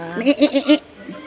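Goats penned in an enclosure bleat in four quick wavering pulses, close and fairly loud, followed by a faint fainter call.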